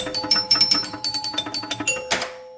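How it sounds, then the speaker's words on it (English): Electromechanical chime unit in a Mata Hari pinball machine rings a quick run of about a dozen bright bell tones, close and clear, ending in a fuller struck chord that rings out. "It has a chime unit that you can see right here"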